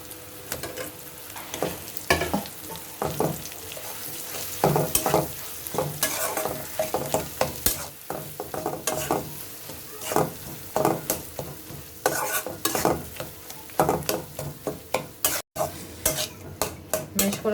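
Mashed potatoes frying in oil with ground coriander and cumin, stirred again and again, giving repeated scraping strokes over a constant sizzle, close and clear with no talking.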